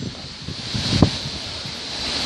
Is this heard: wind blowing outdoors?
yes